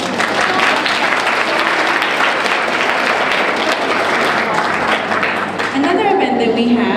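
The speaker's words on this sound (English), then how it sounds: "So a round of applause for all our strong teachers." Loud, sustained applause from a school audience for the teachers during a student achievement pageant, dense clapping throughout that thins slightly near the end as a voice begins to speak.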